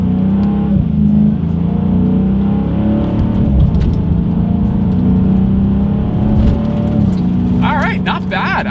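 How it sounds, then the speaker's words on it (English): A 2020 Dodge Challenger R/T Scat Pack heard from inside as it accelerates, its engine note climbing and dropping through quick paddle-shifted gear changes, loud and close, with a high whine building toward the end. "let's test out the paddle shifters of this 2020 Dodge Challenger Scat Pack"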